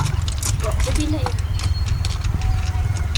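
Steady clip-clopping of horse hooves, moderately loud, with a busy outdoor background and faint voices, in Atok, Benguet.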